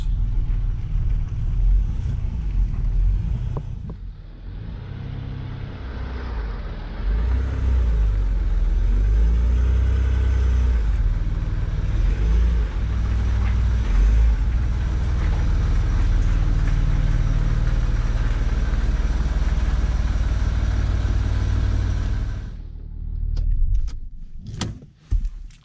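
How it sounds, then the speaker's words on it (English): A Land Rover Discovery 3 rolls into a home garage at low speed, its engine humming steadily and fairly close, then the engine cuts off, followed by a few sharp clicks and knocks near the end. "Putting the car back in the garage."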